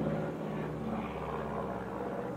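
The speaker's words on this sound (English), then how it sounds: "as I hear an airplane go over" An airplane flying overhead outdoors, a continuous low rumbling drone of moderate loudness that stays steady across the short stretch.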